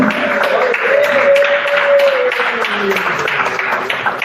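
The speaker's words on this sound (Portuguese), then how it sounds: "Vamos receber nossas mãos aí com palmas para Jesus." A church congregation claps together during a Pentecostal worship service, a dense steady wash of hands over a sustained musical tone, fairly loud throughout.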